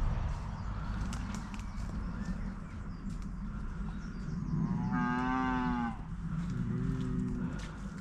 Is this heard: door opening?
no